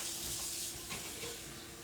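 Water pouring into 3 cups of medium grain rice in an Instant Pot, a faint steady hiss of running water lasting about two seconds with no talking.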